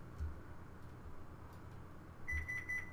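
A phone notification sounds as a quick series of three faint, rapid electronic beeps near the end, over quiet background hum.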